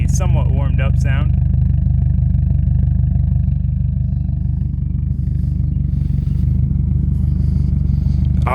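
A warmed-up Subaru car engine idles with a steady low rumble, loud and close throughout, while a voice talks briefly at the start.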